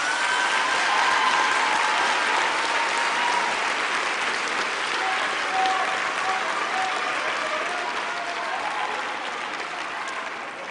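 A large graduation ceremony audience at a university business faculty session gives sustained, dense applause for the graduates, a steady roar of many hands that fades slightly toward the end.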